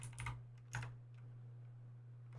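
Quiet typing on a computer keyboard during a live coding and ethical hacking session: a short burst of key clicks, a pause, another brief cluster, then a lone tap over a steady low hum.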